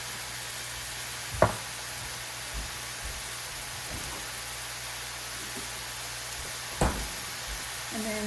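Cheesesteak meat browns in a pan with minced garlic and crushed red pepper flakes, giving a steady, low hiss of sizzling throughout, broken by a couple of brief utensil clicks.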